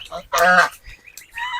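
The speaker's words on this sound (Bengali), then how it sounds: "তাকে রাজহাঁস বলে" A goose in a rain-soaked village yard in Subarnachar, Noakhali, gives a loud nasal honk, followed by softer, shorter calls, heard close and alone.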